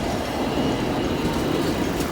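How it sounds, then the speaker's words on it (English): A Hong Kong tram rolls past at Sheung Wan, a steady broadband rumble of wheels on rail amid street ambience, continuous and fairly close, with no talking. "Trams here."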